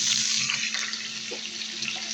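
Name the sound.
pouring a little water into frying onions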